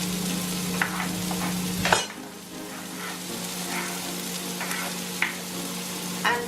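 Garlic and white onions hit a hot pan for creamy cauliflower, with a steady close sizzle and frying crackle, a sharp burst as they drop in, then intermittent stirring scrapes.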